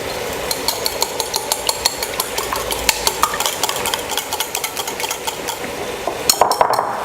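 Two eggs whisked with grated Parmesan cheese, a fork or whisk clicking quickly and steadily against a bowl in a close, bright, rhythmic tapping that keeps a fairly even pace throughout.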